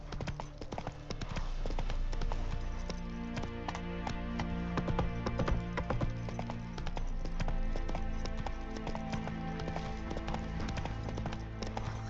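Roach, Geralt's horse in The Witcher 3, trots along with steady, evenly paced clip-clop hoofbeats that continue throughout, close and clear over a low, droning musical background.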